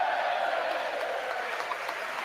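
Steady applause from members of Congress fills the chamber during a presidential address, an even, sustained clapping wash heard from a distance with no voices over it.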